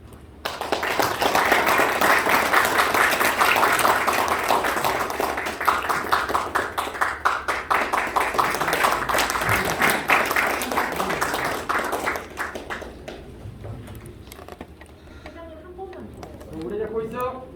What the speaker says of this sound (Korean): 뜨거운 박수 한번 쳐주십시오.